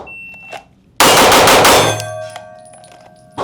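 A Staccato P4X pistol fires a rapid string of shots about five in quick succession, loud and close, followed by ringing metallic clinks of brass.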